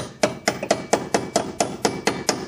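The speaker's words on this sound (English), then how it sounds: "I just use my fork and I just I'm tapping her in" A metal fork tapping a leaf spring shackle into place on a 1971 Nova gives about nine evenly spaced, sharp, ringing metallic taps, close and alone.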